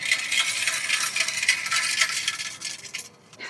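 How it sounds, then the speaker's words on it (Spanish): A coin change machine in Cuenca, Ecuador dispensing a bill's worth of coins, a loud, continuous cascade of metallic clinks and jingles rattling into a tray, then tapering off. "miren lo que hay acá, una máquina que te da cambios"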